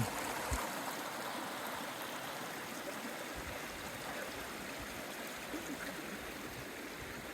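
A stream runs with a steady, close rush of water that holds constant and fills the scene without a break.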